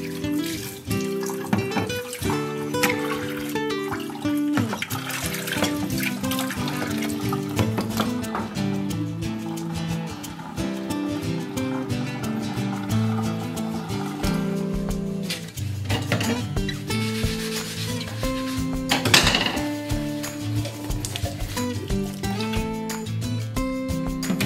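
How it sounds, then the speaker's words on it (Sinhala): Cups are rinsed by hand under a running tap in a kitchen sink before going onto a drying rack. Steady water flow and scattered ceramic clinks continue throughout, mixed with a constant layer of background music. "ඉතින් මම පිඟං කෝප හොදලා මේ රැක් එකේ පොඩක් දිය බේරෙන්න තියලා"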